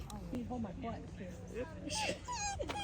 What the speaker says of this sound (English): This is a 3-week-old puppy